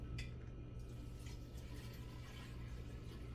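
Iced tea pours steadily into a container of sugar, a continuous liquid splash and gurgle heard close by with a low hum beneath it.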